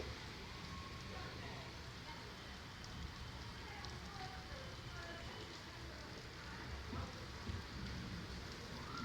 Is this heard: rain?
yes